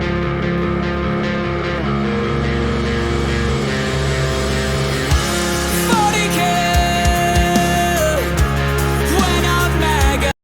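A song plays back as continuous, full-band recorded music at steady loudness, dense sustained tones with a lead melody line entering midway, no voices over it.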